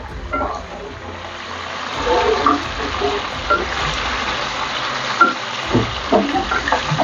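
Chicken frying in oil gives a steady hiss and crackle with occasional stirring clatter, close and moderately loud, with no voices.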